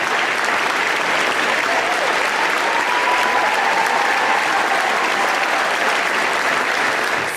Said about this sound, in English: I think Debbie and the company should be applauded